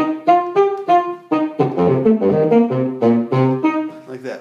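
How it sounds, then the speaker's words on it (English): A bassoon played plainly without effects, a close, dry run of short detached notes followed by a busier, faster melodic passage, reedy and full with no other sounds. "Pretty straight bassoon kind of stuff."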